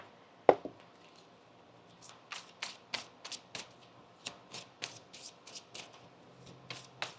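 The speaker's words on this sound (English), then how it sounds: "One more shuffle here." A deck of tarot cards is shuffled by hand during a reading, producing a string of crisp riffling bursts and flutters after a sharp tap, fairly close and quiet, with no speech.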